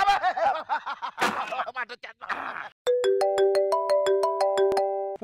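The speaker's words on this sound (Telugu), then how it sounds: "ఫోన్ వస్తుందట ఇప్పుడే" A mobile phone ringtone plays a looping melody of clear repeated tones in a comedy skit, following a burst of talk and laughter.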